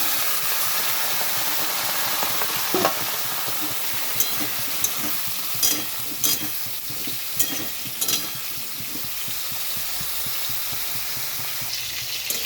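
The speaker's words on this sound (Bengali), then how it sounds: "এখানে আলু বেগুনটা একটু ভাজা হয়ে গেছে" Continuous loud sizzling of potatoes and eggplant frying in oil, with intermittent scrapes and clicks of a spatula stirring the pan.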